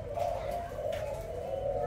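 A Malaysian spotted dove coos close by, a steady low hum that swells and dips through a continuous call.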